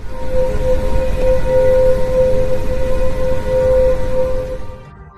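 A sonification of the dwarf planet Pluto: a loud, eerie drone with a sustained whistling tone over low rumbling noise holds steady, then fades out at the end.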